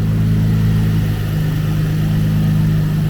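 Nissan 350Z engine idling steadily after repair, a close, even mid-pitched hum with a constant low drone and no revving or voices.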